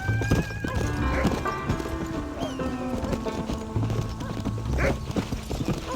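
Horse hooves clip-clopping at a gallop with a neigh, from the video game Red Dead Redemption, steady rhythmic hoofbeats close by under a game music bed.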